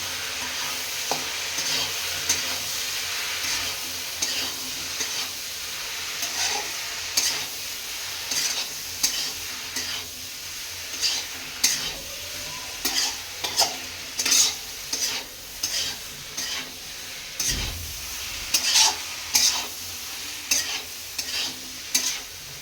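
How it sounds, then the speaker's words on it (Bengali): Spices with cumin powder stirred in a frying pan: repeated scraping strokes of a utensil against the pan in a steady rhythm over a soft, constant sizzle, close and fairly quiet, with no voices. "জিরা পাউডার, দিয়ে ভালো করে ওটাকে মিক্স করবো"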